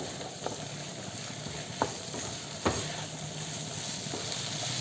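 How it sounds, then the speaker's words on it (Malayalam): Masala for prawn biryani is stirred in a hot pan, a steady close sizzle with a few sharp scrapes of the spoon against the pan at irregular moments. "മല്ലിയിലയും കൂടി ചേർത്തിട്ട് നമുക്ക് നന്നായിട്ട് ഇളക്കി യോജിപ്പിക്കാം"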